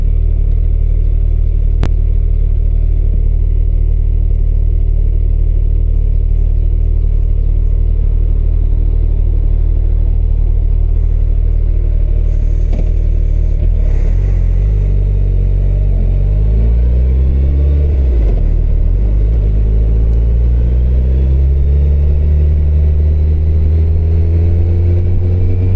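A Suzuki Hayabusa motorcycle engine drones loud and close while riding, a continuous low rumble that rises and falls with throttle changes, climbing in pitch around the middle and end with accelerating revs.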